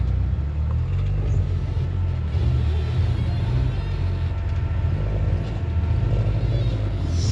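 A rock crawler engine on loose boulders at Johnson Valley, a steady low rumble with engine revving heard from some distance, with faint talk underneath.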